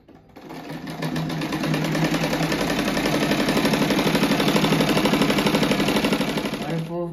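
A sewing machine runs a seam along a simple rug with a pointed edging, starting up, then whirring loud and steady at an even pace before slowing to a stop.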